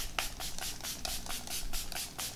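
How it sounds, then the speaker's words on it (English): Onami Radical Setting Mist sprays onto a face in a rapid series of short, close hissing pumps, about ten bursts in a steady rhythm. "This is the Onami Radical Setting Mist I've just been trying out."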